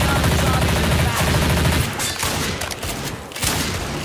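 Rapid bursts of automatic gunfire in Left 4 Dead 2 crackle loudly and continuously, then break into a few shorter volleys.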